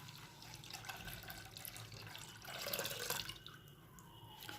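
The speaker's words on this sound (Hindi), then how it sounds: "अब मैं इसमें दूध शामिल कर दूँगी" Milk pours into brewing tea kahwa for a winter cough remedy chai, a continuous splashing liquid stream that swells louder midway before easing off.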